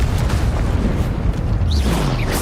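A Confringo spell blast in Hogwarts Legacy lands as a loud, rumbling explosive roar that fills the whole moment, with a few faint whistling tones near the end.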